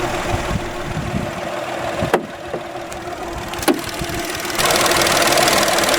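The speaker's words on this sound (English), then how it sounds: "The engine is a 1 litre MPI 3-cylinder petrol." A 1-litre MPI three-cylinder petrol engine in a 2015 Volkswagen Polo Comfortline idles steadily with the bonnet open, a close, even mechanical hum with a couple of sharp clicks and a slight rise in level near the end.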